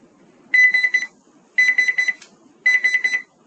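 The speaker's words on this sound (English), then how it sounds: "don't get scared when this beeps" A timer beeps in three separate bursts, each a quick cluster of shrill electronic pips with short silent gaps between, clear and close in an otherwise quiet room.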